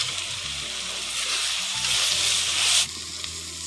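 Whole spices (bay leaf, star anise, cardamom and cinnamon) drop into hot oil for a duck curry, a loud close sizzle that swells and then abruptly quiets.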